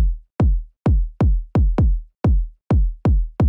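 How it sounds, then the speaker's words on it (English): A Jersey club kick drum pattern: nine loud, booming kicks in a syncopated, uneven rhythm, with some closely paired hits and a group of three spaced in a dotted pattern, played alone without voices or other instruments. "Jersey club adds in an extra kick and rearranges the second half of the phrase so that three kicks will play in a dotted eighth note pattern"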